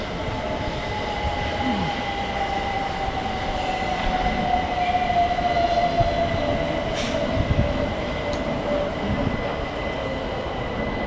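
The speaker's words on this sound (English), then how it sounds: "Another train coming in." A train pulls in at Clapham Junction station, a steady rumble with long sustained wheel squeals running throughout, fairly close and continuous, with no voices.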